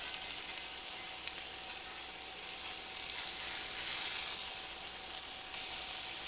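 Burger patties sizzle in a cast iron pan on an induction cooktop, a loud, steady broadband hiss with faint clicks and a few brief scraping touches, heard alone without speech.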